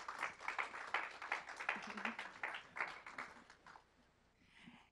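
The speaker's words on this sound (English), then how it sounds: "let's give them a round of applause" Moderate applause for students at a civic engagement expo, a group clapping steadily before it dies down, with some murmuring underneath.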